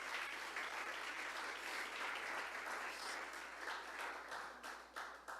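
A church congregation gives loud, sustained applause to God during a Spanish-language worship service, dense crowd clapping throughout that tapers slightly near the end.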